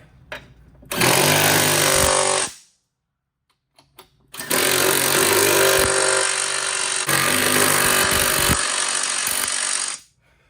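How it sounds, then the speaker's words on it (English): A power tool, likely an impact wrench, tightens lift kit bolts on a Jeep Compass 2-inch lift install, running in two long loud bursts separated by a short quiet pause with small clicks. "Now you can tighten up the top bolts this way."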